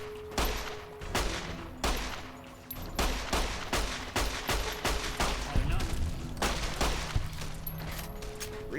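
Rapid bursts of gunfire ring out in the video game Fallout New Vegas, a string of sharp, loud shots coming in quick irregular clusters one after another, with faint background game sounds between them.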